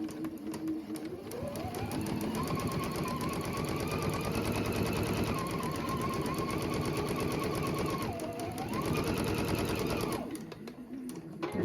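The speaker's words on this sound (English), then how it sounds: "Take them to your sewing machine and stitch 1/4 inch either side of that line." A home sewing machine stitches two layers of quilting fabric a quarter inch from a marked line, a steady close whirring run of about ten seconds that pauses and dips briefly near the end before resuming.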